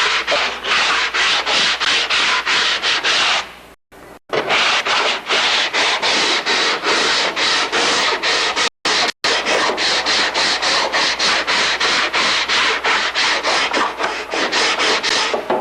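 Half-round file rasps along the trailing edge of a kit aircraft canard or elevator in fast, steady back-and-forth strokes, close and loud, pausing twice briefly.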